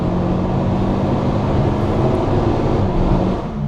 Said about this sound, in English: 4th gear, foot flat to the floor. We're going to hold it all the way through to the red line.